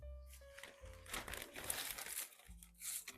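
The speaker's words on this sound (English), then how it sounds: "Remove the paper, my label." A paper label being peeled and crumpled off a homegrown herb preserving container, giving close, crisp crinkling and tearing rustles in quick irregular bursts at low volume, with no talk.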